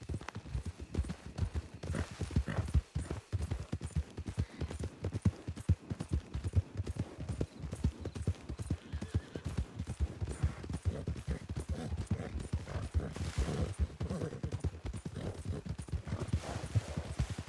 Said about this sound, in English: Oh my God, horse! Why are you trying to kill me?